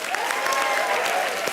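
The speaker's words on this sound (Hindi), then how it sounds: "तालियां विवेक के लिए," A studio audience on a comedy show breaks into loud, sustained applause, a thick wash of clapping with faint musical tones running beneath it.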